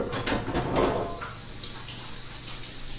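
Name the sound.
rinsing chocolatey hand under running tap water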